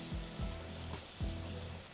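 Chopped onion with a tablespoon of ginger garlic paste fries in a pan for chicken badami karahi, giving a steady moderate sizzle punctuated by a few scraping stirs of a spoon, with no talking.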